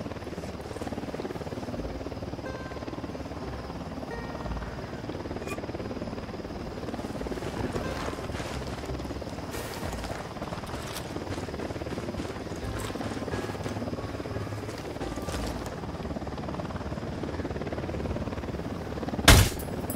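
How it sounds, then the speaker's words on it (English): Helicopter rotor drone in the video game Ghost Recon Wildlands, a steady mid-level thrum mixed with scattered bursts of gunfire and game noise, ending in a sharp loud hit. "Helicopter incoming."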